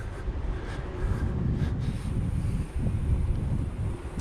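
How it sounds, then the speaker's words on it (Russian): Strong headwind and gusting crosswind buffet the microphone on a bike ride along an open road between Shakhty and Matveev Kurgan, a steady loud low roar with surging gusts throughout. "Сейчас 6 километров со встречным ветром. Блин, боковой прям серьезный."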